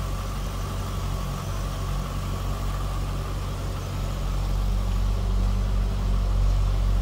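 A 2004 Chevrolet Corvette Commemorative Edition coupe with a 5.7-liter LS1 V8 idles close by, giving a steady, even, deep rumble that holds constant throughout.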